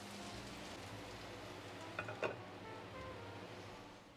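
Steady soft sizzle of a cabbage and sweet potato omelette cooking in a covered pan, a continuous faint frying hiss with a couple of brief clinks near the middle.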